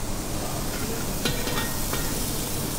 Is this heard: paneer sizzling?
yes